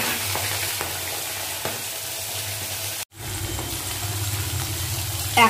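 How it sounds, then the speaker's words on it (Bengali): Tangra fish fry in hot oil in a wok with black cumin seeds, giving a steady, close, loud sizzle and bubbling that runs almost without pause, broken only by a short cut near the middle. "ট্যাংরা মাছগুলো এবার ভেজে তুলে নেব।"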